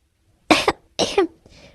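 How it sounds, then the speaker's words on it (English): Two sharp, loud coughing bursts come in quick succession, a person choking on their own hard laughter, followed by a fainter wheezing gasp. "So hard that suddenly started coughing and choking on his own laughter"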